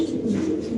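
Spanish pigeons cooing steadily at a pigeon farm, a continuous low, throaty warble from several birds close by, with no talk over it.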